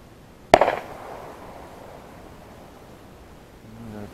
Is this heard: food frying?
no